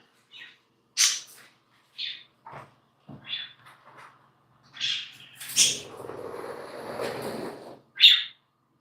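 Several birds squabbling outdoors, with sharp chirps and squawks coming in scattered bursts, then a denser flurry of scuffling calls toward the end.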